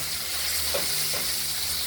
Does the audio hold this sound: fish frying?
yes